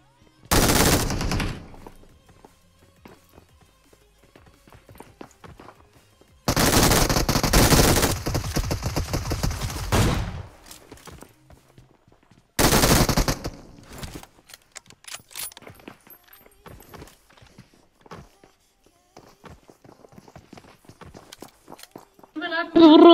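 Gunfire in the video game PUBG Mobile comes in three separate loud volleys of rapid automatic shots. Near-silent stretches with faint clicks and steps fall between the bursts.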